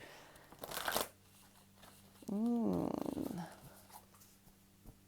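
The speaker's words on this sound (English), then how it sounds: "We're going to do one more shuffle here." Soft riffling and flicking of cards being shuffled in short bursts, with a low hum and a brief animal-like vocal sound in the middle.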